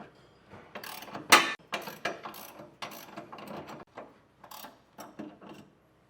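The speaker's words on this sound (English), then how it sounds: "Then you want to take a 15/16 wrench or socket and tighten down that nut." A 15/16 ratchet wrench or socket tightens a lock nut while Firestone Ride-Rite air helper springs are installed on a 2024 GMC Sierra, giving a series of close, uneven metallic ratchet clicks and bursts with short pauses between them.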